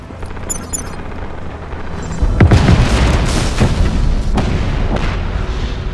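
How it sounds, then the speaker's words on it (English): A big explosion in the Just Cause video game erupts with a deep booming blast that swells loudly and rumbles on, with crackling debris and secondary bursts trailing afterward. "It's gonna be a big ass explosion though."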